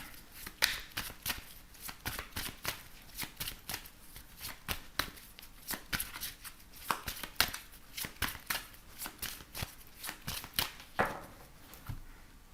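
An oracle card deck is shuffled in a tarot-style reading, giving a steady run of crisp riffling card slaps and flutters, close and fairly quiet, with no talking.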